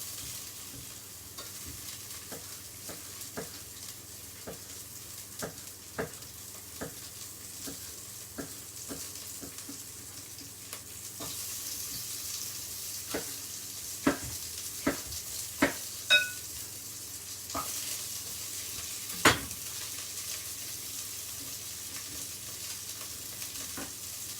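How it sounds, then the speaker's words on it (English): Sliced pepper and broccoli fry in a pan with a steady soft sizzle, broken by repeated sharp stirring scrapes and clacks of a utensil that grow louder toward the end. "Kind of just frying it a little bit. We still want a bit of crunch in the pepper and in the broccoli."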